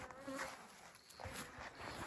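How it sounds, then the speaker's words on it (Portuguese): Honeybees swarm densely around a beehive during handling of the hive, a steady close buzzing hum with individual bees darting near, no talking. "As abelhas tá invadindo com força."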